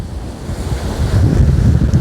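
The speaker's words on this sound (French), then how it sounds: "nous avons la mer" Continuous rumbling surf of sea waves washing ashore, loud and close, mixed with gusty wind buffeting the microphone.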